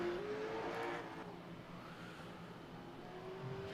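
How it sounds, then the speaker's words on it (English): Late model stock car engines revving high in the distance on a paved short track, running to the rev limiter down the straightaways, a steady droning whine with a rising pitch, heard faint and alone. "you can hear these cars running out to the rev limiter down these straightaways"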